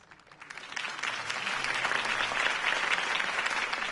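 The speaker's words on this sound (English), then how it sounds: "could have heard that applause" A crowd breaks into applause that builds quickly and stays loud and steady, dense clapping with no talking over it.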